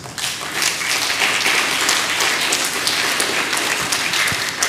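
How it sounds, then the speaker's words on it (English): Close, loud applause from an audience at a primary school championship medal ceremony, sustained crisp clapping from many hands with no talk over it. "I want you to give yourself another round of applause."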